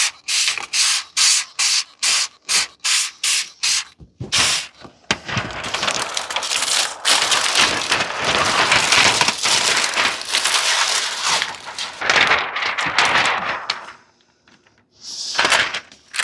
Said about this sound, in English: spraying the backside with some soapy water